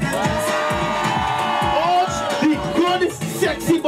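Concert crowd at an outdoor independence-day show on the water screaming and whooping over thumping music with a pounding beat, a loud, dense mix of cheers and shouts.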